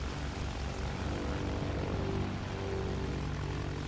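A propeller airplane engine in the video game Battlefield 1 drones as a continuous, loud, steady roar with no letup and no voices.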